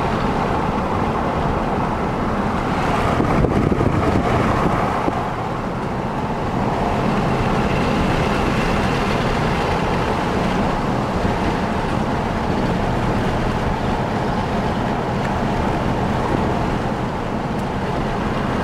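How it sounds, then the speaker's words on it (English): A vehicle driving along a ranch road: steady close engine and tyre rumble mixed with continuous buffeting wind noise on the microphone, with no speech throughout. "We're still driving through on the main road of the ranch to the property."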